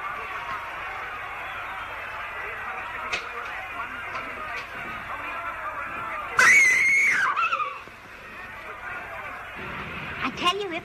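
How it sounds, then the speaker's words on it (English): A woman lets out a sudden, shrill scream lasting about a second, heard amid a tense indoor scene in a film with background hum and brief voices. "Then why did that woman scream?"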